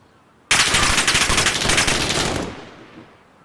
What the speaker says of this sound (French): Ok, c'est une mitrailleuse.